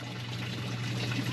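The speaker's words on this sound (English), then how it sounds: "I do have to turn on the water for the corn." Water running steadily from a tap to water corn on a homestead, a continuous close hiss and trickle with an underlying low hum from the flow.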